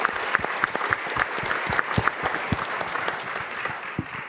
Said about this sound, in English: shouldn't we give the organizers a big applause?